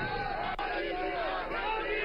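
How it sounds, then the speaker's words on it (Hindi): Crowd at Atal Bihari Vajpayee's memorial chanting Modi's name: a brief, steady mass of voices in rhythmic unison, loud and near, with no pause. "दोनों जगहों पर लोगों की भीड़, जो मोदी मोदी मोदी मोदी"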